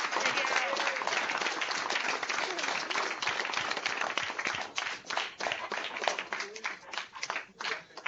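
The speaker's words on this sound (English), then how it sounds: "Students, let's give them a warm round of applause." Students clap over a video call with unmuted microphones, producing bandwidth-limited, uneven applause from scattered hands that grows sparser near the end, with voices mixed in.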